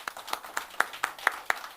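An audience applauds at a public event, a thin run of sparse, evenly spaced claps sounding faint and somewhat distant, with no voices over them.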